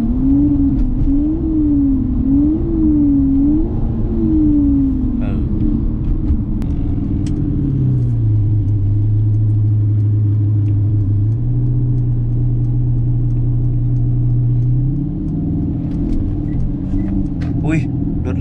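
A motorcycle exhaust note simulated by a phone app, revved in a few rising and falling bursts and then held at a steady lower drone over a constant rumble. Speech is also present.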